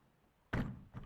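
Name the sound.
closing the ramp door of a car hauler trailer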